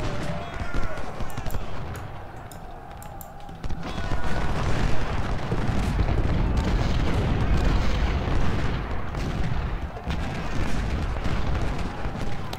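Cannon and artillery fire booms in an American Civil War battle at Brandy Station in the strategy game Ultimate General: Civil War, dense rumbling blasts and gunfire running steadily throughout, mixed with battle noise and someone speaking.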